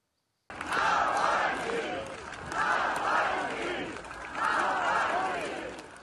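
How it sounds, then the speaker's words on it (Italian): A large crowd outside a church at the funeral of Alexei Navalny shouts in loud, rhythmic chanting waves, three rising surges of massed voices heard from within the gathering. "sono le urla della folla di coraggiosi che si è radunata davanti alla chiesa dell'icona della Madonna"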